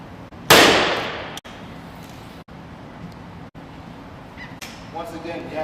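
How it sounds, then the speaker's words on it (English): A blank gunshot fired at a demonstration of a gunshot detection system in Chicago: one sharp, loud bang near the start with a long decaying tail, followed by quieter room noise and faint voices. "Sounds like a gunshot, no infrared muzzle flash."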